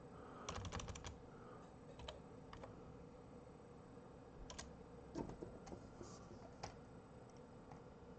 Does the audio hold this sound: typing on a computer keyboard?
yes